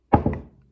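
A single solid thunk of a shift knob clunking into gear in a Mazda ND Miata MX-5, close and fairly loud, with a softer second knock right after and a short fading tail, no talk.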